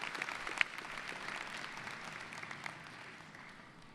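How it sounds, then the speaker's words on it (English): A commencement audience in the stands applauds graduates' families and friends, a broad sustained wash of clapping that fades slightly near the end. "please look to the stands and applaud your families, your friends who are here with you today"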